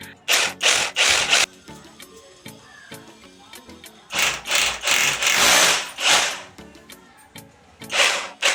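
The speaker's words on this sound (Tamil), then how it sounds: "நம்ம இப்போ சவுத்தில் ஒரு ஓட்டை போட்டு பார்க்க போகிறோம்" A cordless drill with a long 6 mm concrete bit bores into a wall in several loud, close bursts of whirring and grinding, separated by short pauses.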